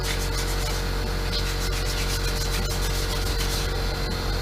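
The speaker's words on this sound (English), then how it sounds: "So you just need to rough that up a bit." Abrasive rubbing roughs up the glaze on a Kymco Chinese scooter's clutch housing, a dense, continuous scratchy scrubbing at close range with fast repeated strokes and no talking.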